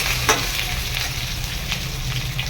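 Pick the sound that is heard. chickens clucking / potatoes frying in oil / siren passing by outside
potatoes frying in oil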